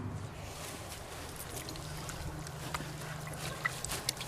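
Cold water trickles and pours steadily over a dirt-caked anthill cast, a soft continuous wash with a few small splashes toward the end.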